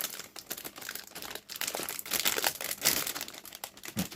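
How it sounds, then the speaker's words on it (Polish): Thin plastic foil wrapping is torn open from a MiniArt StuG III Ausf. G model kit box. It makes loud, close, continuous crinkling and crackling in irregular bursts, with no talking. "Otwieramy sobie folię."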